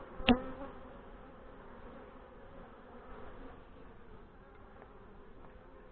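Honey bees hum steadily around an opened hive during an August inspection, a soft continuous buzz close by with one brief sharp knock near the start.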